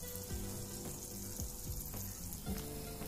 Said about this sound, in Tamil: வெந்தயம் நல்லா பொரிஞ்சு வரட்டும்